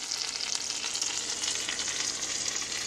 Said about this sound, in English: Leftover pizza slice in the frying pan, getting hot